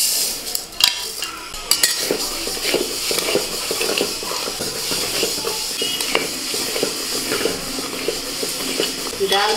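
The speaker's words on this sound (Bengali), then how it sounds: "প্রথমে ডাল আমি শুকনো করে ভেজে নেব।" Lentils dry roasting in a pan for dal with cauliflower and fish head, giving a steady close rustle and light sizzle with scattered scraping stirs and utensil clinks throughout, no voices.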